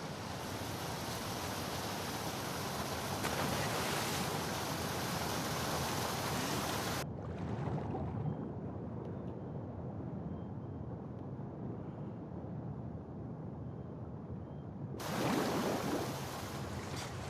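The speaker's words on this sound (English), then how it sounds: "the player was faced with a fast-flowing torrent of water they couldn't cross" A fast-flowing torrent of water rushes in The Last of Us Part II, a broad, steady roar of churning water that cuts out abruptly midway, leaves a quieter ambient bed, then returns at full strength.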